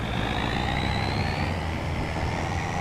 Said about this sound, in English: I must say this truck does sound pretty cool.